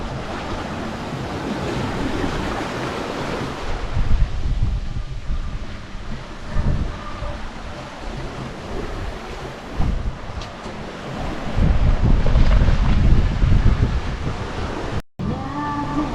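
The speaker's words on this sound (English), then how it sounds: "We happen to be in one of the deepest parts of the Atlantic Ocean." Wind roars steadily over the open mid-Atlantic while ocean waves surge and break around a sailboat, with heavier rushes building and easing and no voices.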